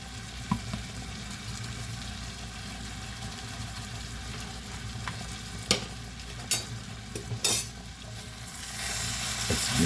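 Ground turkey with Italian seasoning and black pepper sizzles steadily in a pan while being stirred, with a few sharp scrapes and clacks of the utensil against the pan and no talking.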